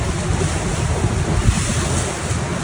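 Rhine Falls in Switzerland roars close beside a tour boat, a dense, steady rush of churning water and spray with wind buffeting the microphone, loud and continuous throughout.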